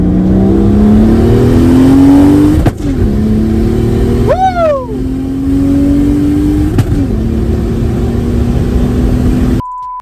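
A Mercedes C400 W203 with a 4.0L M104 turbo engine does a burnout, revving hard and loud up close; the engine note rises and drops several times, ending in an abrupt cutoff.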